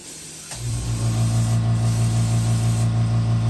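A spray gun lays a wet coat of paint onto a custom fishing lure, starting with a click and then a steady, close, loud hiss over a low mechanical hum. The spray continues without a break and no one speaks.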